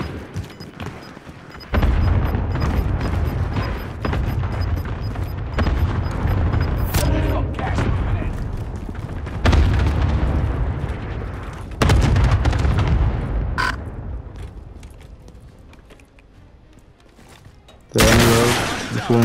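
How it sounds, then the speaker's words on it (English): Cluster strike explosions in a video game arrive as a series of heavy booms and rumbling blasts rolling over several seconds, loud and dense, with a voice talking intermittently and a sharp final burst. "Allied cluster strike arriving."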